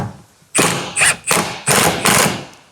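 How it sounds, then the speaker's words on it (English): Five loud, close metallic thuds in a steady rhythm as a hammer taps a rusted handbrake cable bracket under a Mk7 Ford Fiesta during rear axle bush work. "So I have to give it a little tap because of the rust."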